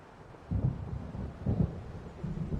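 Low rumbling thunder of an approaching storm in the video game Alan Wake Remastered, rolling in two or three soft swells over quiet ambience, distant and fairly faint.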